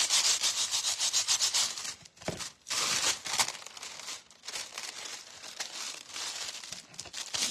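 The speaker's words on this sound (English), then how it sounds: "on some of these foams, you have to make sure that you sand down" Dollar Tree foam eggs being sanded by hand, a loud, close, raspy scrubbing in quick repeated strokes with a few short pauses between bursts.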